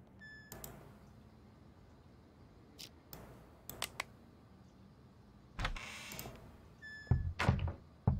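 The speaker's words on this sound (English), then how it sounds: "Who's that knocking?" Scattered knocks and thuds on a door in a video game, sparse and irregular, with faint clicks and a louder clattering burst toward the end.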